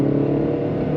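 An Audi A2 engine pulls hard through the gears toward the rev limiter on a long straight, a loud, close, steady drone with no voices.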